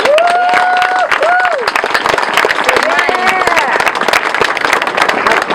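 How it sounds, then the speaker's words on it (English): A crowd at an outdoor candlelight vigil claps steadily in sustained applause, dense and loud throughout, with a voice speaking over it at the start. "please give them a round of applause"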